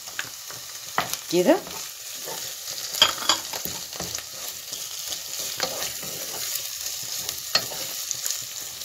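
Minced garlic from a whole head sizzles in hot oil as it is stirred, a steady soft frying hiss with scattered scraping strokes; a brief word is spoken once.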